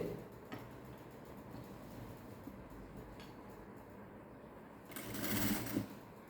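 Sewing machine stitching the gathered frill of a gown, a steady close mechanical whirr running throughout and growing louder in a brief burst near the end.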